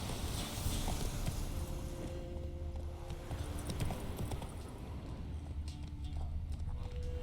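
Horse hooves clip-clop steadily at a walking pace in The Witcher 3, close and continuous with game ambience underneath and no voices.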